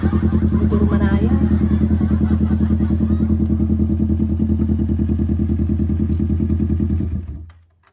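A motorcycle engine idles with a steady, throbbing putter up close, then cuts off near the end, leaving silence; faint voices murmur in the background.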